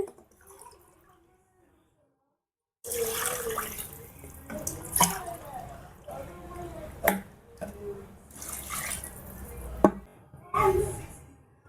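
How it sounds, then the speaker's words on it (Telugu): After a quiet start, water splashes and gurgles as four glasses are poured into a pot for chicken biryani, with a few clanks along the way. "ఇప్పుడు ఇందులో 4 గ్లాసుల నీళ్లు పోసుకోవాలండి."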